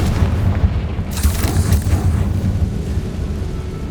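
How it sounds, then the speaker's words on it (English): In the Hogwarts Legacy video game, a Confringo spell bursts into a loud, rumbling fiery blast with a deep booming low end and a sharp crackling flare about a second in, sustained throughout. "Bit dramatic, isn't it? Confringo!"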